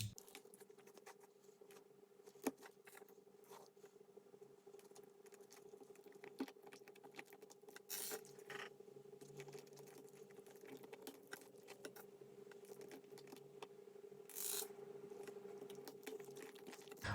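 Small plastic pieces of a non-magnetic 4x4 Rubik's cube click and snap together during assembly, a faint, steady patter of light taps over a constant low hum, close by and without talk.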